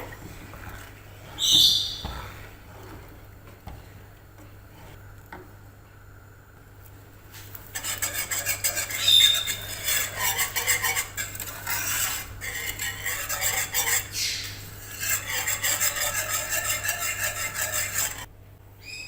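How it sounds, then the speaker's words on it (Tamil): Garlic powder, black pepper and onion powder are stirred smooth into a mixture: quiet at first with a faint clink, then about ten seconds of continuous close scraping and rubbing strokes over a low hum. "கட்டி இல்லாமல் இதை நல்லா கரைச்சி விட்டுருங்க"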